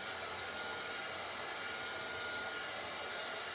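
A hair dryer blows steadily to dry a tea bag folding craft card, a constant close, loud whooshing roar with no break across the whole stretch and no voices.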